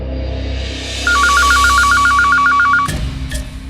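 A telephone ringback tone sounds while a call is placed: a loud, rapid warbling ring of about two seconds over a low hum, then a sharp click and a couple of faint taps.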